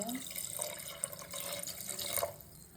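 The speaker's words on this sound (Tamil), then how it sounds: "1 டம்ளர் அளவு போல் தண்ணி ஊற்றிக்கலாம்." Water from a tumbler poured into mutton for a Tamil-style curry, a steady close splashing and trickling stream lasting a few seconds with faint clinks, no speech over it.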